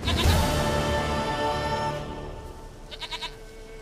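A goat in The Witcher 3 bleats loudly and drawn out, followed by a short run of quick, pulsing bleats near the end.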